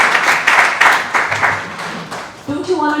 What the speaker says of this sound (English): he deserves an applause.